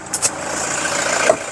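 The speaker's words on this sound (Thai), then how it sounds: "นี่เสียงเครื่องยนต์ปกตินะ" A 2016 Toyota Commuter van with a 3.0 diesel engine and automatic gearbox idles steadily after a brief start-up surge, heard up close and loud with no talking.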